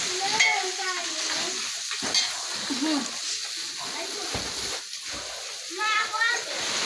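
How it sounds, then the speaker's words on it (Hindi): Jaggery cooking and being stirred in a pan to bind puffed rice balls, a continuous sizzle with scraping stirs, heard under nearby talking voices. "भेली देखिए पकाया जा रहा है लाई बांधने के लिए"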